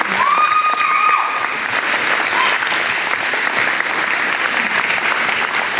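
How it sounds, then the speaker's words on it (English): A crowd at an outdoor freedom festival rally applauds law enforcement officers with steady, dense clapping that holds throughout at close range, with a few voices and cheers mixed in. "let's give the law enforcement that's here a round of applause for being oath keepers"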